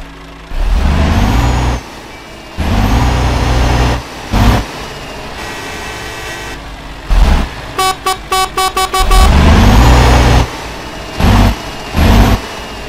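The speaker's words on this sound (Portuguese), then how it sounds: "sobre o ronco, né, mano, é o ronco DC-13" A Scania truck with a DC13 engine in Euro Truck Simulator 2 roars in loud bursts with pauses, then a rapid series of short horn toots and an air-brake hiss, followed by more engine revving.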